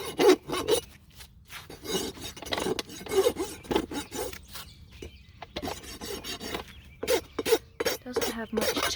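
Repeated rolling strokes of a rasp beveling the edge of a horse's hoof during a trim, a series of close, coarse scraping bursts separated by short pauses.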